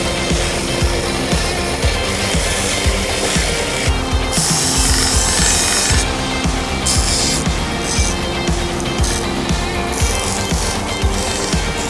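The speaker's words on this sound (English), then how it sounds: "I am excited to get it on the sander, shape it up a little bit" A power sander shapes micarta knife handle scales for a Spyderco Shaman, giving a continuous, loud, close grinding rasp with shifting pressure throughout and no talking.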